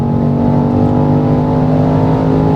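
A BMW XM Label Red's 2.7-weighted V8 hybrid drivetrain pulls hard under full throttle on the Autobahn, a loud, steady, dense engine drone heard from inside the cabin with no talking.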